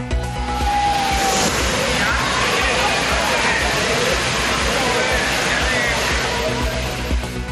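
Thirparappu waterfall in Kumari district roars in a steady, dense wash of rushing water while tourists crowd in to bathe, with a news voice speaking over the constant noise.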